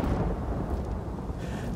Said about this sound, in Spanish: Está cayendo tormenta según se enfada